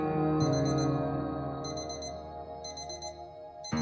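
An alarm clock ringing indoors in a drama scene, sounding in repeated short bursts of bright beeping tones over a steady background, fairly loud and with no talking.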